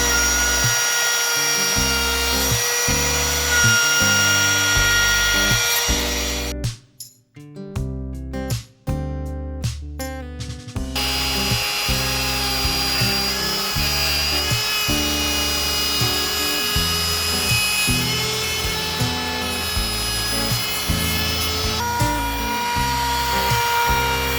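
A small Ryobi trim router cuts along the edge of a wooden guitar body, a loud steady high whine with dense harmonic tones that cuts out briefly mid-run, then resumes at full speed.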